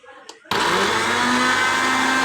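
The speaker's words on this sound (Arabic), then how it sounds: "شغل الخلاط" A kitchen blender blending spices starts abruptly after a brief quiet moment with faint talk, then runs loud and steady with a high whine.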